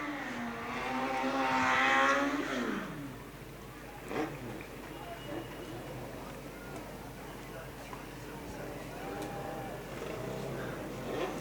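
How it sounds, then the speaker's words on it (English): A Legend race car roars at high revs doing donuts under a commentator's voice, the pitch sweeping up and down in a loud swell before settling to a steadier drone. "Oh, Kenny Melvin doing donuts over there. In both directions."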